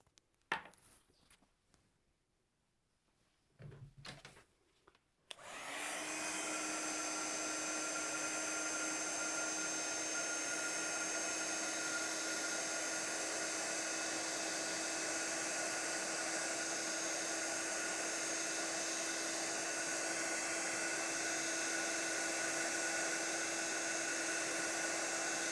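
After a few seconds of faint handling noises, an embossing heat tool switches on and blows a loud, steady whirring hiss over an embossed Christmas card, running continuously to the end.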